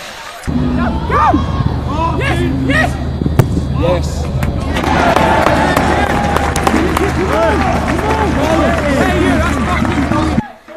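Travelling Charlton Athletic fans roar and cheer after a goal against University College Dublin, a loud sustained crowd swell with shouts filling the stadium while a commentator talks over it.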